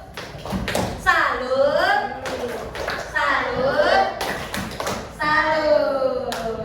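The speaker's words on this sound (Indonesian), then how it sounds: "Tepuk salut." Schoolchildren in a classroom perform a tepuk salut clapping chant, sung voices in unison punctuated by bursts of rhythmic hand claps and taps, repeating in three short phrases close by.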